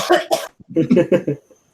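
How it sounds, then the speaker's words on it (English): Several harsh, close coughs burst out in quick succession, two at first, then a rapid cluster after a short pause. "I'll let out a couple coughs"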